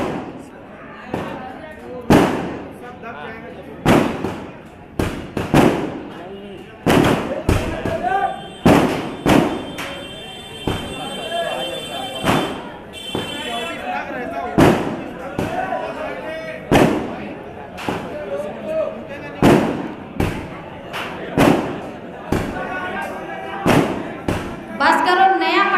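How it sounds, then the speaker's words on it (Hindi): Firecrackers burst one after another at an outdoor political rally, loud sharp bangs in an irregular string with short gaps, while someone talks over a PA and the crowd murmurs between blasts. "बस करो, नया पटाखा मत लगाना भाई।"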